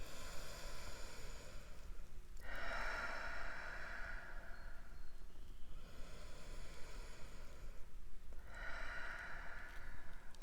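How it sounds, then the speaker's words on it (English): Two slow, deep breaths taken during a yoga class, each a long airy inhale and exhale close to the microphone, over a steady quiet background hiss with no talking. "We'll take 2 deep breaths here"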